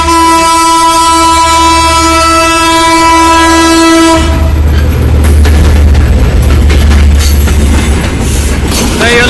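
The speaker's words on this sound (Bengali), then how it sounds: "একটা হর্ন পাওয়া গেল সুন্দর হর্ন" A Bangladeshi passenger train hauled by a locomotive passes a level crossing in Uttar Azampur. A loud, sustained horn blast sounds up close, then gives way to a heavy, roaring rumble and clatter of carriages going by.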